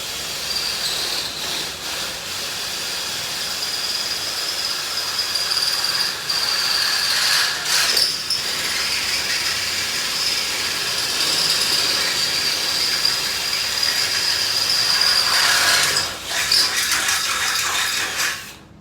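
A power drill whines steadily and loudly for a long stretch, with brief dips in pitch, while boring holes in the joint of a double-deck bed frame for screws.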